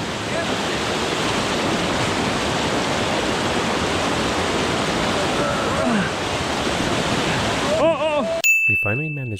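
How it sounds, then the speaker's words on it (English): Whitewater rushes loud and close around a canoe on a river run, a steady broad roar of churning water filling an open cockpit, with brief voices and splashing near the end. "the water was now pouring into the open cockpit and filling the canoe"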